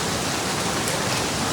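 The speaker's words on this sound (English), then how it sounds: "I've had lots of people that want to see rain in Mexico" Heavy rain pours down a street in Mazamitla, Mexico, a loud, unbroken roar of falling water close by with no voices over it.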